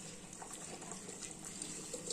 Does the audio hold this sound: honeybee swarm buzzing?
no